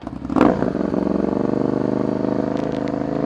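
A Suzuki SV650S motorcycle fitted with a Delkevic 200mm stubby exhaust runs cold, giving a deep, loud, steady throb after a quick blip of the throttle.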